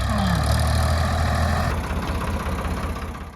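A tractor engine idles steadily with a rotavator hitched behind it, out on a farm field in Bopapur village, Maharashtra, a continuous low rumble that dips slightly in level partway through.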